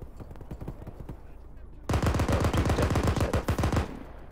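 Automatic gunfire in the Arma military simulation game, set on a single-story building. Quieter, more distant rapid bursts give way to a loud, dense stretch of close fire lasting about two seconds before easing off.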